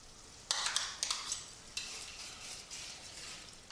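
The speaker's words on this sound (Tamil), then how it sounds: "இப்போ சாம்பார் நல்லா கொதிக்குது" A pot of brinjal sambar bubbles and simmers steadily, with several sharp scraping clinks of stirring near the start and quieter bubbling afterward.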